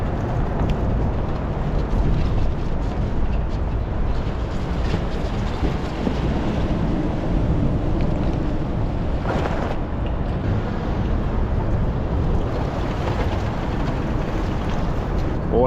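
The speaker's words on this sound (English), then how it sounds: "Let's hit the water, see how this thing runs." A SeaArk Predator jet boat runs on a river busy with other fishing boats, its steady engine roar and rushing water blending with constant wind buffeting the microphone throughout.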